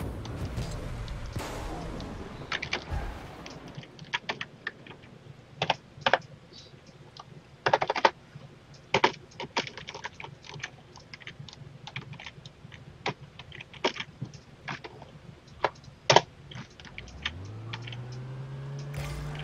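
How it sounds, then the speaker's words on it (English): Typing on a computer keyboard: bursts of sharp, close keystroke clicks in irregular runs with brief pauses, fairly quiet overall, no talking, ending with a rising hum near the close. "Mouse and keyboard, guys."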